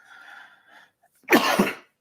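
A single sharp sneeze bursts out close by after a moment of soft breathy sound, brief and forceful before falling silent.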